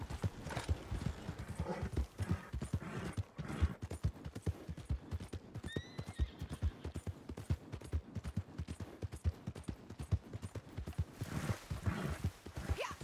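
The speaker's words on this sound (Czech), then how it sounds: "Tady u toho koně se možná zdá, že jede pomalej, ale zase on je daleko větší než ty rychlý koně." Horse hooves clip-clop at a steady walking rhythm in the Red Dead Online video game, with a brief whinny partway through and faint background voices.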